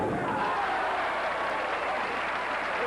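Crowd applause at a 1984 professional bowling tournament, the Firestone Tournament of Champions, a dense, steady wash of clapping filling the arena throughout with no break.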